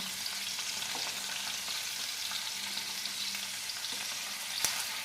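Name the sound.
mutton tikka boti pieces sizzling as they roast in a pan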